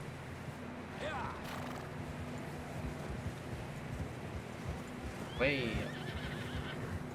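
Horses in a video game whinny twice against a steady wind-like background, with faint hoof clopping beneath. Someone speaks briefly.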